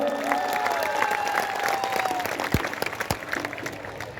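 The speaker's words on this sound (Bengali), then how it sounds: "একটু নওশাদ সিদ্দিকী ভাইজানের জন্য করতালি হয়ে যাক।" Crowd applause at an outdoor election rally ground in Sadhanpur, Amdanga, a dense continuous clatter of many hands mixed with a few whistles and cheers, steady and fairly near.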